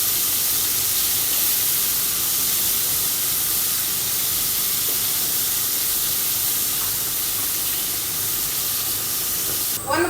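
Chicken pieces fry in hot oil for a Chinese chicken sizzling dish, giving a steady, loud, dense hiss and crackle that runs unbroken throughout with no talk, and a brief clatter near the end.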